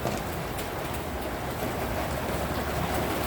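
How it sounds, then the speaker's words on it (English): Steady rain and rumbling thunder outdoors during a stormy day, heard from inside as a dense, continuous low roar and hiss with no break across the whole stretch. "Please excuse the rain sound or thunder going on outside."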